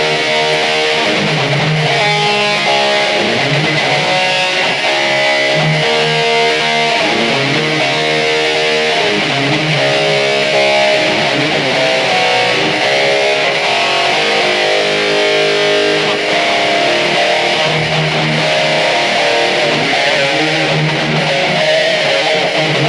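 Heavily distorted electric guitar plays a dense, continuous rhythm part dialed in for a 1985 tone, loud and compressed, with no talking.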